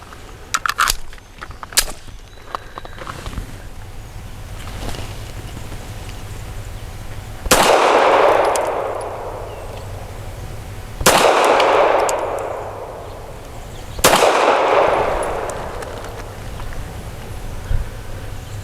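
Three sharp, loud pistol shots ring out from an FN Browning BDA 380 firing Remington Golden Saber 102-grain brass-jacketed hollow points, spaced a few seconds apart, each with a ringing decay, after some faint handling clicks.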